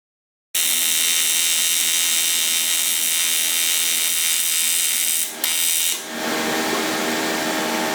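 A welder fuses a bar to a plate on an E Ride Pro rear subframe, starting abruptly into a loud, sustained buzzing hiss that carries on steadily with two brief dips near the end.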